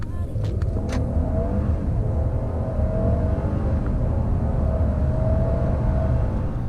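Mercedes E450 4MATIC coupe pulls hard from 30 to 70 mph, a steady, loud engine drone with a rising tone heard from inside the cabin, with no one talking.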